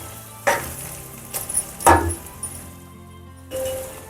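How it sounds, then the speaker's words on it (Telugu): Mutton pieces drop into a clay pot already frying ginger garlic paste for mutton curry, bringing bursts of loud sizzling with stirring scrapes and light clinks between them, then a steadier hiss. "సో ఇప్పుడు మనం మటన్ వేసేసుకుందాము."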